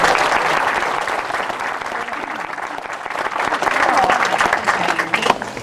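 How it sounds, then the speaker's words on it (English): An audience at a school event gives sustained, loud applause, dipping slightly midway and swelling again toward the end. "She needs a round of applause."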